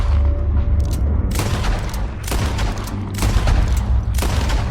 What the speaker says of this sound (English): you can unleash a devastating string of shots in quick succession to all of these enemies